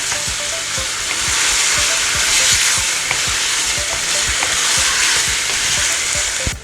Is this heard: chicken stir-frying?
yes